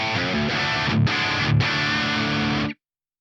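Dry rock crunch from a distorted electric guitar played through a Fractal VP4, with loud sustained chords that ring for under three seconds, two brief dips between strums, then a sudden stop into silence.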